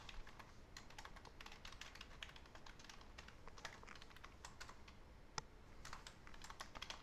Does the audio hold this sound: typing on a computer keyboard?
yes